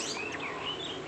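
A caged green leafbird sings continuously, with bright, warbling chirps and whistled phrases close by over a steady background hiss.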